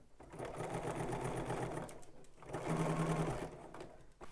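A sewing machine stitches pocket seams in two close, rapid whirring bursts separated by a brief pause.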